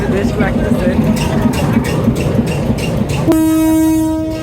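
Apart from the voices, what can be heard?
train departing from Altafnagar station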